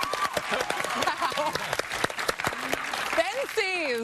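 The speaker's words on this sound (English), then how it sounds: "Everyone, give a clap." Studio audience clapping on a reality talk show set, steady applause with cheers running throughout while a voice speaks over it near the end.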